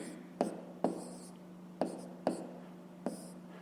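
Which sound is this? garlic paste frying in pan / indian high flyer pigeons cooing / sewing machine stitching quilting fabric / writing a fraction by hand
writing a fraction by hand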